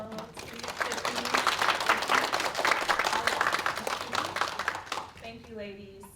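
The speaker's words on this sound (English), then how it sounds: "Just want to give you a quick round of applause." An event audience gives a brisk round of applause for its organizers, dense clapping that builds quickly, holds for several seconds, then tapers off as a speaker's voice returns.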